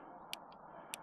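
A Shimano 7-speed thumb shifter on a Vanpowers UrbanGlide e-bike makes two crisp, sharp clicks about half a second apart, with a softer tick between them, close and quiet.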